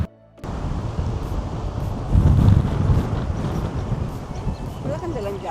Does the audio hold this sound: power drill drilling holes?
no